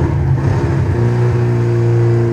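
A stunt car balanced on two wheels at a Hell Drivers stunt show in Le Guilvinec, its engine running with a steady mid-pitched hum that rises slightly as it restarts, loud and close, with no talk.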